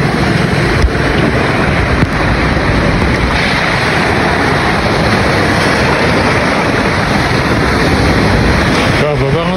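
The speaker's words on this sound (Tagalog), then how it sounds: "Uy, ang lakas ng alon." Strong ocean waves at Cabalitian Island in Sual, Pangasinan, a loud continuous roar of surf mixed with heavy wind buffeting the microphone, filling the whole stretch without pause.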